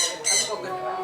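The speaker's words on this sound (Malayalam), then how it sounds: "മക്കാവോ എന്ന് പറഞ്ഞ സംഭവമാണ് ഇപ്പോൾ നമ്മൾ കാണുന്നത്" A macaw at an exotic bird park in Wayanad gives a short, harsh squawk, close and fairly loud, with a couple of rough calls in quick succession.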